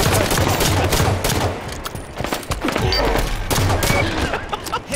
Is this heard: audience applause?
no